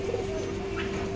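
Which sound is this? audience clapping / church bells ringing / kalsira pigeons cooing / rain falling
kalsira pigeons cooing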